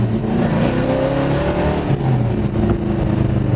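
A 1969 Plymouth Road Runner accelerates through the gears on an open road, its engine droning steadily and rising in pitch as it pulls hard, with no voices present.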